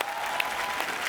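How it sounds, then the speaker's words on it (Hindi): A burst of studio audience clapping on The Kapil Sharma Show, dense and steady, filling the brief moment with crowd applause. "उसके लिए पहले जोरदार तालियां।"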